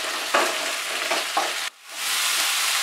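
Tomato and green chilli fry over a high flame, giving a loud, steady sizzle with a few stirring swells, a brief sharp drop in the hiss, then the full sizzle again.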